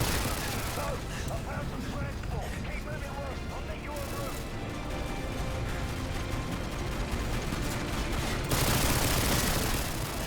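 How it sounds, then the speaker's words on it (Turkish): Nonstop gunfire in Call of Duty Modern Warfare 2, a dense, loud barrage of rapid automatic shots and blasts that fills the whole stretch, with a player talking over it. "Bana biri sıkıyor abi nereden sıkıyor göremiyorum"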